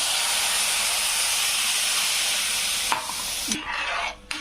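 Steady loud hiss and sizzle from a hot pan of roasted semolina, with a stirring scrape and a sharp burst of steam as water hits it.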